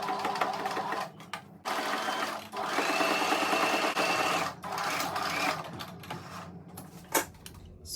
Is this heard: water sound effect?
no